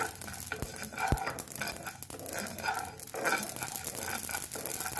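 Poppy seeds fry and crackle in a hot pan while a spoon stirs and scrapes them, a continuous fine sizzle with a few distinct knocks of the utensil against the pan, close and steady throughout.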